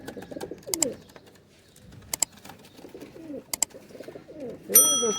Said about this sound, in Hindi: कबूतर ऐसे हो, चलते फिरते में भी मज़ा करें